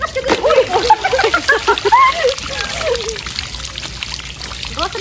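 Water splashes and trickles from an outdoor faucet as people gather to brush their teeth on a vacation trip with cousins, close and unsteady, with voices chattering over the flow.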